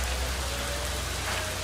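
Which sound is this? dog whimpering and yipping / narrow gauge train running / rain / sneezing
rain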